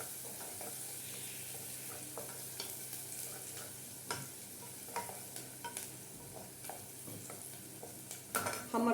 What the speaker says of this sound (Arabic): حمر البصله وارجع لكم